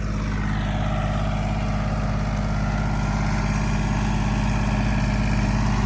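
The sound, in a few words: tractor engine running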